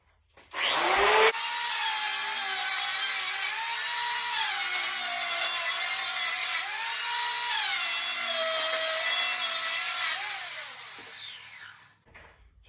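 A rattan sword blade is shaved in three long swipes by a whirring power tool: loud sustained grinding passes with brief dips between them, then a tapering spin-down, no voices.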